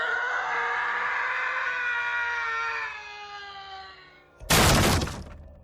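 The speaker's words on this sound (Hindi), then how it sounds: "तू इतने जोर के क्यों चिल्ला रहा था?" A loud, long scream in a Hindi horror audio drama holds for about four seconds and fades, then gives way to a sharp, loud crash.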